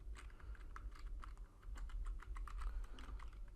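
A password is typed on a computer keyboard, with soft, close key clicks coming in quick, irregular bursts against a quiet room.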